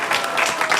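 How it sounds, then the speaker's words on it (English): A brief burst of audience applause at a Bhagavad Gita talk on the yoga of hope, dense clapping from a gathered crowd lasting under a second. "Let's give a round of applause for her"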